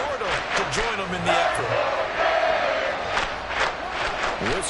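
Large NFL stadium crowd roaring and yelling continuously during a goal-line play, a loud sustained wall of cheers with occasional whoops rising above it.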